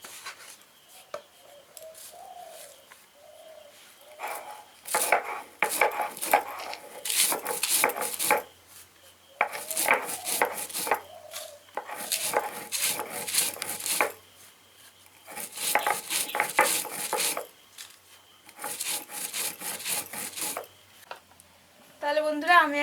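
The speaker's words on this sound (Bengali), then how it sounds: "মশলাগুলো ভেজে কৌটোতে রেখেছিলাম। এবার আমি গুঁড়ো করব।" Roasted spices for an elephant apple pickle being ground in bursts of harsh grinding, several runs of a few seconds each separated by short pauses, fairly close.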